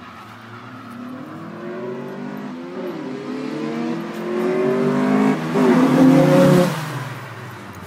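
A Honda Integra and a Civic hatchback rev hard in a street race, loud engine notes climbing through repeated gear changes and swelling as the cars pass close, with no talk.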